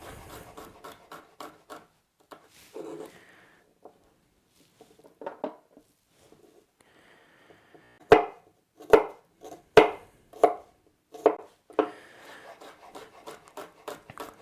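Garlic cloves are chopped with a knife on a cutting board: sharp, close wooden knocks, scattered at first, then a steady run of louder chops with short pauses between them.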